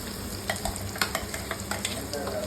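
Ground spice paste being stirred into a fish curry in a pan, with a spoon scraping and clacking in several distinct strokes over a low, steady sizzle, close by and with no talking.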